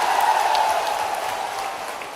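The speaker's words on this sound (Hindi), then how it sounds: "पिछोर की ताली बजा दो" A crowd at a political rally in Pichhore applauds, loud dense clapping that slowly tapers off over a couple of seconds.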